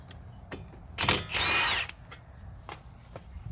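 A power tool spins off a dust shield bolt on a Dodge Caravan or Chrysler Town & Country minivan during hub repair: one loud whirring burst of about a second amid quiet shop ticks.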